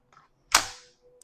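One sharp, loud shot from a Defense Innovations DI.68 fitted with a very short barrel. A softer mechanical click comes just before it, a faint click after, and the shot's burst decays quickly.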